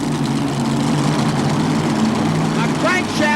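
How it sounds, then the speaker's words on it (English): A pulling tractor, the Macon Bacon Special, runs at a 1987 tractor pull in Montgomery with a steady, loud, low engine drone under an announcer's voice. "Now Bruce Hutcherson is rolling out in the beautiful Macon Bacon Special."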